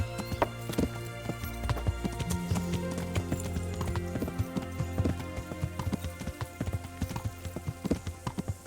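Horse hooves clip-clopping at a steady riding pace in the video game Kingdom Come: Deliverance, rhythmic clear hoofbeats over a low background hum and the creak of tack throughout.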